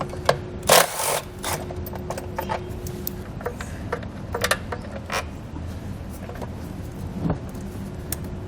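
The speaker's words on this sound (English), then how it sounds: "We'll use a 10mm socket. We're going to have a bolt here on the back side and one on the front." A 10mm socket on a ratchet loosens bolts holding the emissions canister of a 2020 Chrysler Pacifica, giving close, quiet clicking and metallic ratcheting with a few sharper clanks early on, alone against faint background hum.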